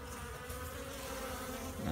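Honeybees buzz at a hive entrance: a dense, continuous close-up drone that holds steady and swells slightly near the end.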